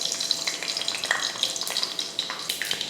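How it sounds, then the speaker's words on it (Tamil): Mustard seeds and urad dal fry in hot oil in a kadai, giving a dense, crackling sizzle with rapid pops that stays close and fairly loud throughout. "எண்ணெய் காஞ்சதுமே கடுகு உளுந்து,"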